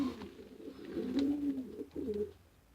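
Racing pigeons in a loft give soft, low rolling coos, two or three warbling calls in close succession, quiet and near with no talk.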